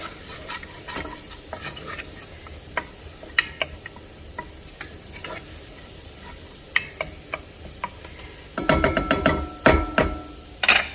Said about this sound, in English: let's start with the sauteing of the shallots